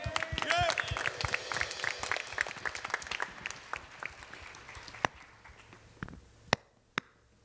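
A church congregation at a young adults' worship service breaks into loud, dense applause that gradually thins out to scattered individual claps.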